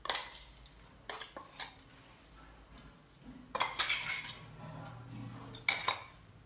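A spoon scrapes ground green chilli and peanut paste onto a plate. Close metallic clinks and scrapes come in a few separate bursts with quiet gaps between them.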